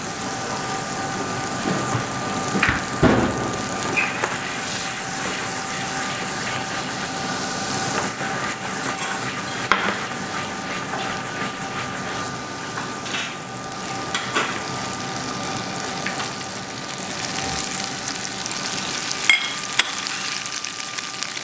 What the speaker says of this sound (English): We heat the butter quite hot, and then we place the fish inside.